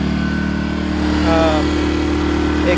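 A portable gas generator engine running steadily after half an hour of use, a loud, close, continuous mechanical drone with someone talking over it.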